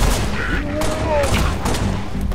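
Gunfire in the Halo Reach campaign played co-op, dense bursts of game shooting and booms running continuously under excited voices of players talking.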